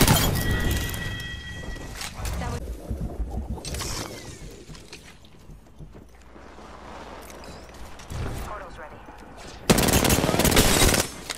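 Gunfire in the video game Apex Legends on the Kings Canyon map, with bursts of rapid automatic shots, sharp cracks and metallic clatter coming in irregular clusters, loud and close, with a louder burst near the end.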